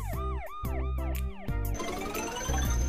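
Police car siren played at a children's stage show: loud rapid up-and-down electronic yelps that shift into a brighter, noisier tone, continuous and close with no voices.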